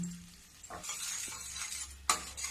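Jaggery being stirred into a sweet-sour carrot, cauliflower and turnip pickle in a pan, with soft scraping, faint sizzling and a sharp clink of the spoon against the pan near the end.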